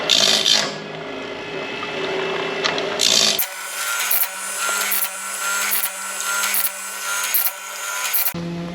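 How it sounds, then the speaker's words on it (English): A 7-degree sharpening stone grinds along a sawmill bandsaw blade. It gives a close, continuous abrasive rasp that swells in repeated strokes, and a loud burst of grinding opens and closes the passage. "This here is the 7-degree stone sharpening the blade."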